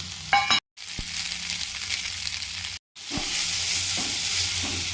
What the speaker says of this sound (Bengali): এরপরে এতে ভাতটা দিয়ে দিচ্ছি, এর সাথে নুন দিয়ে দেবো আর এই ভাজা বাদামগুলো দিয়ে দিচ্ছি।